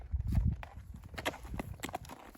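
A saddled horse steps backward, its hooves landing in a series of close, irregular clip-clop thuds over a low rumble.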